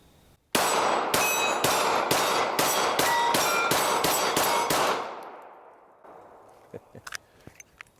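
A Springfield Hellcat .380 pistol firing flat-nose rounds: a rapid string of about ten loud, sharp, evenly spaced shots with ringing echoes, then a fading tail and a few scattered clinks.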